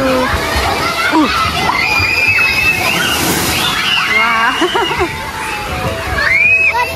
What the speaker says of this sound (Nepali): हात्तीको सुलबाट पानी निस्किएर अनि त्यो माथिको बाल्टीमा चाहिँ पानी भऱ्यो